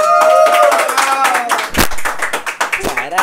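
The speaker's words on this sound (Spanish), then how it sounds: "Tú Quieres Show, un aplauso." Audience applause on a live variety show, a burst of clapping that quickly thins into scattered claps, heard together with talking and music.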